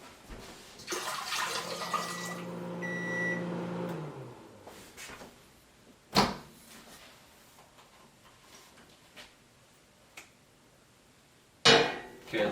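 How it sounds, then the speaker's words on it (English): Water tipped out onto a Rocketbook Wave reusable notebook: a splashing, pouring rush for a few seconds, then quieter dribbles and a couple of sharp knocks, with no voices. "So I'm going to tip some water out."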